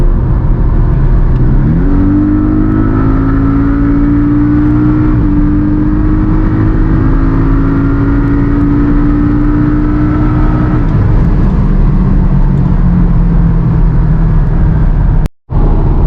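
A four-cylinder Porsche 718 Cayman accelerating hard on a highway, engine note rising through gears with a brief dip at a shift, loud and close, heard from inside the cabin.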